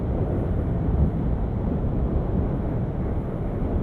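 Honda CBR 650R motorcycle cruising along a dual carriageway, a steady, loud wash of engine drone and wind rush that holds constant throughout with no pauses.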